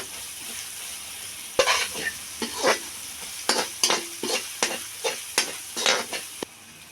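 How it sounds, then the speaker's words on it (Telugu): Egg curry masala fries in a pan under a soft sizzle, with about a dozen rhythmic scraping stirs of a spoon against the pan, close and distinct. "ఇది బాగా కలుపుకోవాలండి పచ్చి వాసన పోయేంత వరకు బాగా ఏంపుకోవాలండి"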